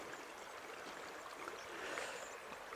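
A small burn brook trickles into the River Irthing beside stepping stones, giving a soft, continuous watery hiss at low level.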